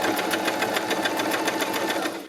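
A sewing machine stitches fabric for a child's harem pants in zigzag stitch, running fast and close with an even, rapid mechanical chatter that winds down at the very end.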